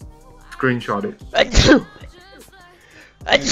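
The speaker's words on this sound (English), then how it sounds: "Achoo!" A single loud, close sneeze bursts out in the middle, with people talking casually before and after it.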